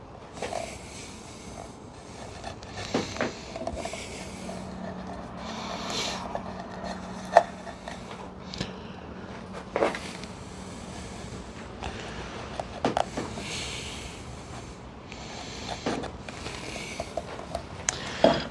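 A wood chisel cuts notches in a wood sculpture, heard as quiet scraping and rubbing strokes broken by scattered sharp taps and knocks at close range, with no talking.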